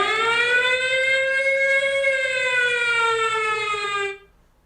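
A loud civil-defense-style siren wails at a steady pitch for about four seconds, sounding close and alone, then cuts off abruptly.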